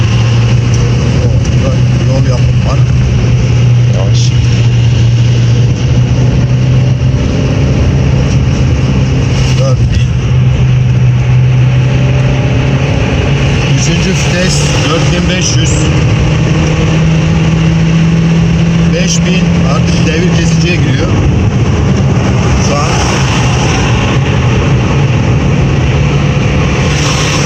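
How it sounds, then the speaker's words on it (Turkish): A car straining through a hard test drive after an injector fault was repaired, its engine droning loud and steady with slowly rising pitch and wind and road roar, while someone talks over it. "Şu an elimden geldiği kadar sıkıştıracağım arabayı."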